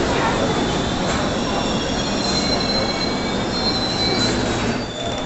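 A London Underground District Line train's wheels squeal loudly and continuously on the track, a harsh, steady metallic screech close by that holds for about five seconds with no talking.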